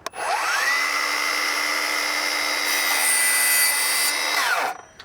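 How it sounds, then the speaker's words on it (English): A Milwaukee 7 1/4 inch miter saw cuts straight A-grade pine molding: the motor spins up, holds a loud, steady whine through the cut for about four seconds, then winds down. "And this is straight pine right here that I'm cutting."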